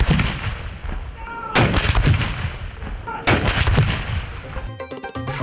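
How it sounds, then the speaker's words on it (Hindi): Artillery guns firing a 21-gun salute for Independence Day at a military garrison in Lahore, heard as loud booming blasts with rumbling echoes, two big reports standing out amid a continuous roar of distant gunfire and crackle. "21 तोपों की सलामी से दिन का आगाज।"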